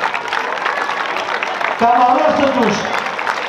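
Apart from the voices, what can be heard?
crowd applause at a parade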